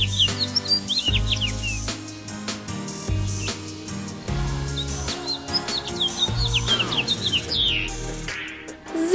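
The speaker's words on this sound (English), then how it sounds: "I am a yellow finch." Yellow finch chirping in repeated quick high tweets and short trills over a steady background of music, the calls scattered throughout.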